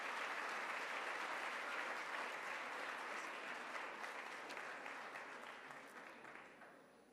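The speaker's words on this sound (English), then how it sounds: "Please give her a big round of applause for all the things which she has done today." An audience at a law summit at PES University claps steadily in dense, sustained applause that stays full for several seconds and then slowly fades.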